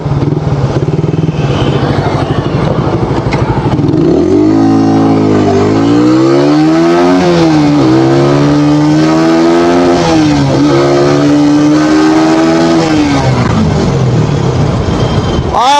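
A 150cc motorcycle rides along a road, its engine revving loud and close with rising and falling pitch through several gear changes and accelerations, with steady wind and road noise throughout.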